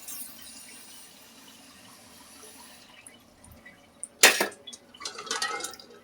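Hot water poured off boiled eggs in a kitchen during egg biryani preparation: a soft, steady liquid wash tails off, then a sudden loud splash and clatter lands, followed by a longer burst of running, sloshing water.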